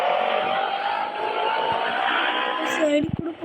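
A motorbike on the move gives a steady engine and road drone with wind rush, close and continuous, breaking into a few sharp knocks near the end.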